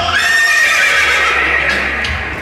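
A horse gives one loud, close whinny lasting about two seconds, heard alone with no talk.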